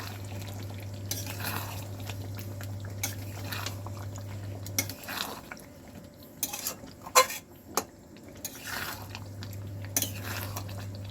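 A spoon scrapes and clinks against a pan while chicken curry is stirred after garam masala goes in, soft intermittent scraping over a low steady hum with faint sizzling.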